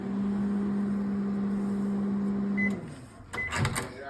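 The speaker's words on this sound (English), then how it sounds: "So now we're going to pop our cookie into the microwave for about a minute." Microwave oven heating a cookie hums steadily with a low drone, then stops with a couple of short beeps and door clicks.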